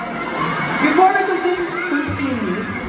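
Concert crowd at a world tour show in Singapore, a dense roar of cheering and shouting voices that swells and holds steady throughout, with a louder surge near the middle.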